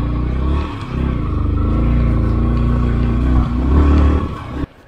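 A motorcycle ridden through snow by a rider in wet crocs gives a loud, steady engine drone with slight swells in revs, running without talk and cutting off abruptly near the end.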